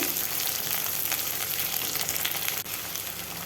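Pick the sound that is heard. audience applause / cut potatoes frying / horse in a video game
cut potatoes frying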